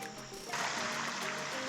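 Creek water in Red River Gorge rushes and splashes steadily at close range, growing louder partway through and continuing alone without voices.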